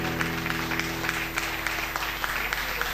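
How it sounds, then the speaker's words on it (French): Audience clapping at a live music show, a dense steady burst of many hands applauding, sustained and fairly close for the whole moment. "Un tonnerre d'applaudissements,"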